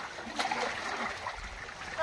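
Water spills and splashes in a short burst of trickling and splattering, close by and moderately loud, with no clear talk over it.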